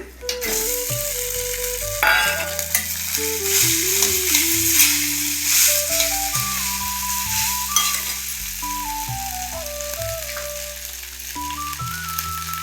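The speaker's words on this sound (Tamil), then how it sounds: "இப்போ இதில் சாதம் சேர்க்க போகிறேன்" Cooked rice being stirred into a lemon rice seasoning in a pan, with a steady frying sizzle and stirring scrapes running continuously under prominent background music.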